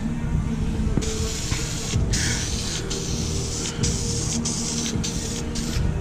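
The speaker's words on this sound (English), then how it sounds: "Overspray is a good thing." Spray gun painting a gooseneck trailer, bursts of hissing spray starting and stopping repeatedly over a steady low compressor rumble, close and loud.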